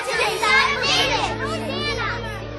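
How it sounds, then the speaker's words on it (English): A crowd of children cries out together in a temple scene of a Bible audio drama, many excited young voices overlapping loudly and continuously, close and busy. "the children crying out in the temple"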